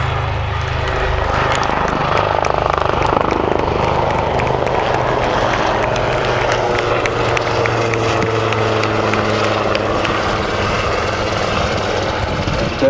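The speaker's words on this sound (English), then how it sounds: "Running in straight in front of you, the Leonardo Wildcat HMA-2s of the Royal Navy Helicopter Display Team" Royal Navy Leonardo Wildcat HMA-2 helicopters flying past at an air show, a loud continuous rotor thump and turbine roar that stays strong throughout, with a commentator's voice over it.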